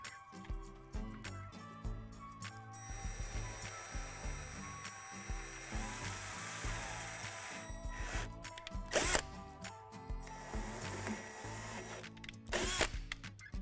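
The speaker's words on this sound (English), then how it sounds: "Now we're going to drill out 2 holes through the dimples on the edge of the sink pedestal." A power drill bores holes through the plastic sink pedestal of a Lifetime children's playhouse, with revving bursts and stops, ratcheting pauses and plastic grinding up close, and no talk.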